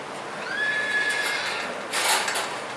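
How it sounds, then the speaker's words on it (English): Barn-sour horse neighing at a trailer, a clear whinny rising and falling at moderate distance, followed by a brief scuffing noise. "we hear the horse at the trailer is going to have more anxiety than this one"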